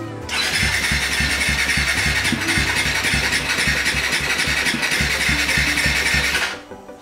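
A Honda Raider 150 Fi motorcycle with a Malaysian-concept build and a blown engine fires up, then runs with a loud, close, rhythmic chugging idle for several seconds before cutting off abruptly near the end.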